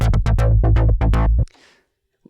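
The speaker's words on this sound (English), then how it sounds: "The dual control filter is basically a rhythmic generator for any sounds" A rapid run of chopped, pulsing synth hits from a step-sequenced dual filter on the Project BRAVO, about a dozen bursts in a tight rhythmic pattern, ending with a brief filtered tail and a short blip.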